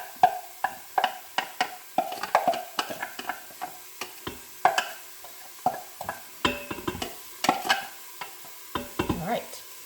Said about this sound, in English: We're gonna add our onions and peppers and garlic over into the pot here. And we're gonna let this sear for about 3 minutes.